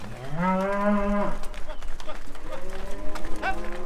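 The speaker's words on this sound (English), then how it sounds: "here are the heifers" Heifers give a long, loud harmonic moo near the start, and a second, weaker lowing call follows later. Background noise and faint movement run throughout, with a person calling to the cattle.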